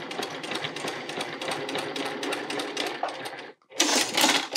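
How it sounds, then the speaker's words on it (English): A sewing machine stitches a curved quilt seam at a fast, even clatter, running close and steady, then stops briefly before starting another quick burst. "I'm going to go ahead and just lay it down and sew right off the end."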